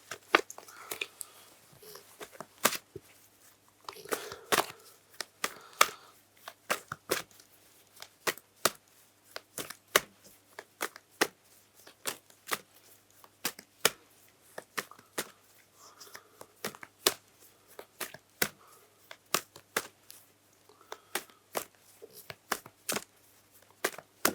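Rapid, irregular crisp riffling and snapping of cards being shuffled, close and fairly quiet, with short pauses between bursts and no talking.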